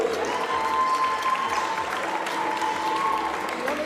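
Crowd applause for the runners-up at a girls' under-13 final presentation, sustained and loud, with a steady wash of clapping and a faint crowd murmur underneath.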